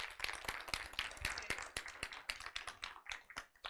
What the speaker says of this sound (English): Bigger applause.